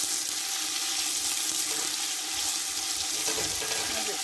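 Chopped onions frying in a pan for a vegetable samosa filling while being stirred, a dense continuous sizzle and hiss with faint scraping underneath, close and steady with no talk.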